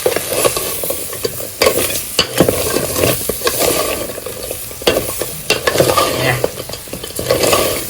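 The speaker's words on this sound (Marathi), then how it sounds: "आता हे संपूर्ण आपल्याला छान मसाल्यात परतवून घ्यायचं आहे" Crabs are stirred through Malvani masala in a pan over a wood-fired stove, giving a loud, busy sizzle with repeated scraping and clattering of a spoon against the pan, and no talking.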